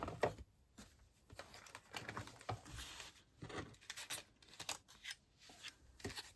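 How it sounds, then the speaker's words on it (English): A manual cut and emboss machine runs white card through a die, giving quiet, intermittent rubbing and clicking bursts at close range, with no talking. "I will need to die cut that and that again in white"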